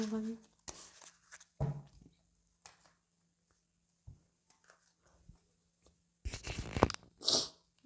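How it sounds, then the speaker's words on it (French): A woman sneezes sharply near the end, a loud close burst following scattered quiet speech and small sounds. "je n'arrête pas d'éternuer aujourd'hui"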